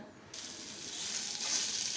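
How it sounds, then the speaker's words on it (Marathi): Cloves and cinnamon pieces hit a spoonful of hot ghee in a wok, bursting into a steady, close sizzle after a brief quiet start and holding a bright crackle throughout. "आता आपण कढईत टाकू एक चमचा तूप आणि चार पाच लवंग टाकायचे दालचिनीचे तुकडे टाकायचे"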